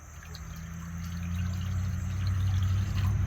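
Water pours into a pot set on a Blackstone griddle for deer stew, a steady filling stream whose pitch climbs as the pot fills, close and fairly quiet, no talking.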